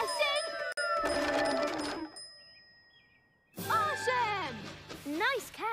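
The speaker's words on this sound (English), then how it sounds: "Is that your lucky bell that I hear ding, ding, dinging?" A small bell jingles briefly at the start of a Thomas & Friends cartoon scene, followed by a cartoonish whistle and voices chattering excitedly.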